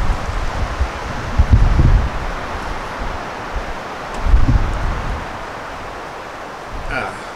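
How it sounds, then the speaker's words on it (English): Gusty wind buffeting a microphone outdoors on a windy day, broadband rushing with two stronger low-heavy gusts rising and falling, fairly loud and close. "it's a windy day today"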